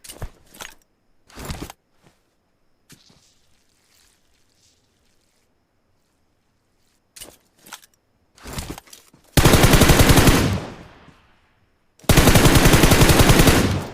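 Gunfire in the mobile battle-royale game PUBG Mobile: several short sharp shots and brief bursts early on, then two loud sustained automatic-fire bursts toward the end, close and dominating.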